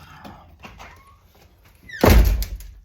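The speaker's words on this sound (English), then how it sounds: "Let me close this door real quick." A bedroom door is pushed shut with a loud, close thunk near the end, after a few faint handling noises.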